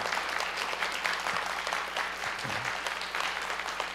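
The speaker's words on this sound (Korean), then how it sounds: "박수를 한번 해주시면 좋겠어요." A church congregation applauds a newly named successor pastor with an even, sustained round of clapping, moderately distant and fairly soft, with a brief murmur of voices.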